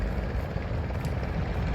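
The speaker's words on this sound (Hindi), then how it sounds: "उसी वजह से ट्रैक्टरों की और ये शोरगुल की आवाज़ आ रही है।" Tractors working at riverbed sand mining on a Narmada ghat, a continuous low engine rumble and drone that carries as a steady, moderately loud din through the open air.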